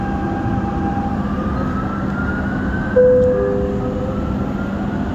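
A Dubai Metro Green Line train running, steady loud rumble and whine of the carriage in motion with a sustained tonal hum, a brief sharper tone rising midway, no voices.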